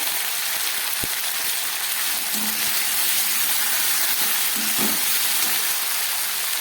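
Fish coated with ginger paste, cumin and chili powder frying in a pan, giving a dense steady hiss of sizzling oil with a couple of faint clinks underneath.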